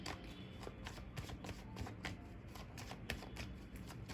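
Tarot cards being shuffled by hand, a steady run of soft riffling and slapping bursts close by for about four seconds, with no voices.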